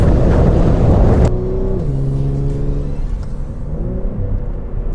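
A loud 2012 Infiniti G37xS coupe engine roars, then drops into a steady revving drone with pitch shifts as it accelerates and settles, close and continuous.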